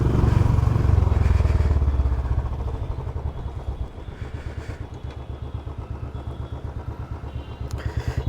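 A Royal Enfield Bullet Classic 350 motorcycle engine thumps loudly and steadily through its silencer, with a rapid, even beat and metallic rattling. The sound is close and continuous, with a slight revving surge at the start.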